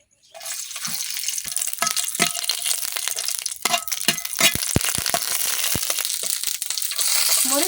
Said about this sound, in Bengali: এখন দিয়ে দিতেছি শুকনা মরিচ